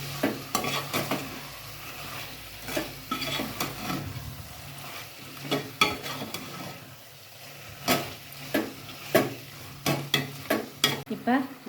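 Soft sizzling of prawns frying in a pan for biryani, with repeated scraping and clinking as a utensil stirs them, strokes coming in irregular bursts.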